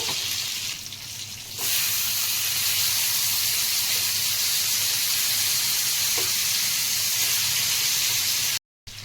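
Fish pieces sizzling steadily in hot oil in a pan while cooking fish biryani, a loud continuous frying hiss with a brief quieter start and a short dropout near the end, no talking.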